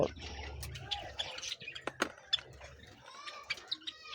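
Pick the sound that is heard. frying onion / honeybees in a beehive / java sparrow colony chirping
java sparrow colony chirping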